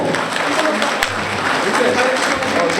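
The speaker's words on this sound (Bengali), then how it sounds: "ভাই বোনেরা করতালির মাধ্যমে আমরা তাকে সাদর সম্ভাষণ জানাবো" An audience at a political gathering claps to welcome a speaker, and dense, steady applause fills the whole short stretch at close range with a faint voice underneath.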